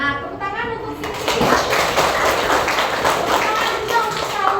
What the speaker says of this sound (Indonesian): Tepuk tangan untuk Siti.